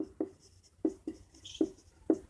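Chalk or marker strokes on a board during a Bihar Board maths lesson on linear equations, five sharp separate taps and scrapes spaced unevenly, close and fairly quiet, with no talking.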